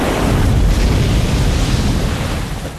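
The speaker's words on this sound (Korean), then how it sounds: "집채만한 파도들이 척을 덮치기 시작한다" Huge waves crash over a castaway's lifeboat at sea in a survival film, a loud, continuous roar of churning water and wind with heavy low rumble, steady throughout and slowly easing at the end.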